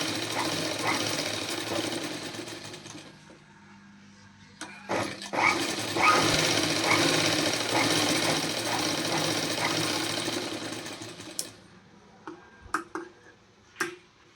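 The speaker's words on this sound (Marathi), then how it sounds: "मी दाखवते त्याप्रमाणे इथून आपल्याला आता शिलाई द्यायची" A sewing machine stitches around the round neckline of a blouse, running steadily with a rapid ticking rhythm for most of the time, then slowing into several separate clicks and knocks near the end.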